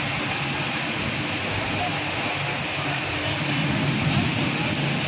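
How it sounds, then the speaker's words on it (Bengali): Heavy rain pours down in Keraniganj, Dhaka, as a dense, steady hiss that fills the whole stretch at an even, fairly loud level. "দেখুন প্রচুর পরিমাণে বৃষ্টি হচ্ছে, প্রচুর পরিমাণে বৃষ্টি"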